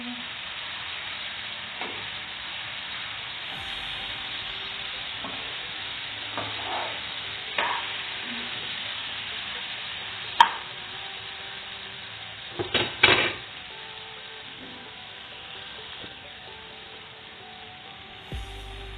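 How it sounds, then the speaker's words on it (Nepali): Ginger garlic paste sizzles and fries steadily in a pan, with occasional stirring scrapes and a few louder clacks of a utensil against the pan over the constant hiss; no talking. "अब त्यसमा अदुवा लसुनको पेस्ट राखिदिने। राम्रोसँग फेरि चलाइदिने।"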